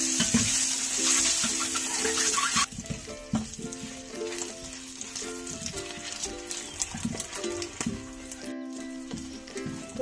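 Eggs fry in hot oil with black pepper for an egg pepper fry, a bright steady sizzle that drops abruptly, followed by repeated scraping and tapping of a spatula in the pan.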